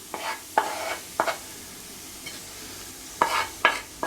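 Mushrooms and leek frying in butter in a pan, stirred with a utensil in sharp scraping bursts spaced through a soft steady sizzle, some strokes coming in quick pairs.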